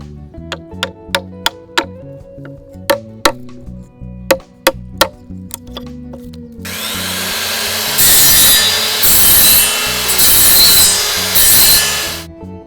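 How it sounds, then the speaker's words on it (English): Hand tools work wood for a joint: a run of sharp, evenly spaced chisel taps, then a long stretch of steady rasping sawing and smoothing strokes, close and with no talk. "using a combination of tools to cut, chisel, and smooth the wood"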